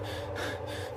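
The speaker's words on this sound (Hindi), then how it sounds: "सन्नाटा, सिर्फ राहुल की तेज तेज सांसें गूंज रही हैं।" Fast, heavy, panicked breathing in a Hindi horror ghost story set in a haunted house, with quick gasping breaths up close that fill a tense silence, with no talking.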